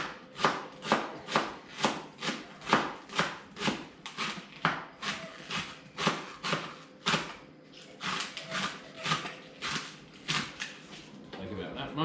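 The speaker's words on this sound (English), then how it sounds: "So just chop this up." Knife chopping big ingredients for a smoked fish pasta sauce on a board, a steady run of crisp, evenly spaced cuts at a quick rhythm with a brief pause, close and clear.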